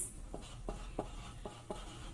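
Pen or chalk writing out the number 26.78, five short faint scratchy strokes spaced about a third of a second apart in a quiet room.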